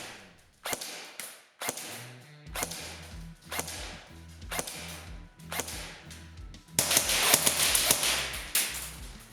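An Ares Amoeba AM-008 airsoft gun fires 0.2 gram BBs through a chronograph, producing a series of sharp, close snapping shots with brief mechanical whirring between them, ending in a quicker burst.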